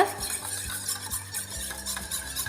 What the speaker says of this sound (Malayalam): ഇതിലേക്ക് 1 ടീസ്പൂൺ പഞ്ചസാരയും കൂടെ ചേർത്ത് കൊടുക്കുക. എന്നിട്ട് നന്നായിട്ടൊന്ന് മിക്സ് ചെയ്യുക.